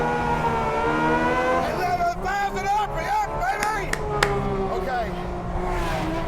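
A carbon-bodied Porsche engine revs hard at high RPM with rising and falling harmonic whines and sharp shifts, played back loudly while people talk over it.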